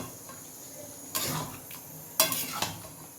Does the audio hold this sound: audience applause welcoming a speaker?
no